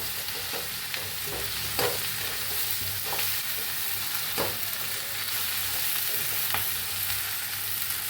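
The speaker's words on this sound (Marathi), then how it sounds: "भेंडी कापून घेतलेली भेंडी घालूया ह्याला बी चांगलं हलवून घेऊया भेंडीला" Cut okra with turmeric is stirred in a hot pan, giving a steady, even sizzle with occasional soft scrapes of a spoon every second or so.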